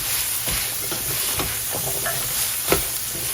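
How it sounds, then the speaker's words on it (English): Parsley stalks and mixed vegetables being stirred in a pot for a Thanksgiving one-pot dish, steady hissing sizzle with a few scraping knocks of the spoon, close and fairly loud. "I'm going to give it a good mix"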